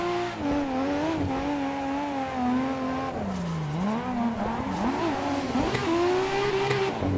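A Nissan 350Z drifting on a track, its engine droning and revving with rising and falling pitch through the run, loud and continuous from inside the car, with tire noise beneath.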